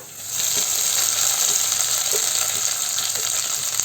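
Chopped spinach (cheera) dropped into golden fried onions in a hot pan for a Kerala-style keerai kadayal, giving a steady, fairly loud broadband sizzle with a few faint stirring knocks and no talking.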